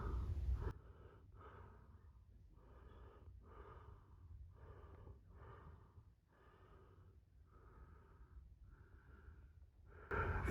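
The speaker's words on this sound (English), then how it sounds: "Forgive my breathing, it's a pretty steep climb up on Trail 4." Heavy, rhythmic breathing from a person climbing a steep hiking trail, with about a dozen deep, steady huffs close to the microphone over faint outdoor background.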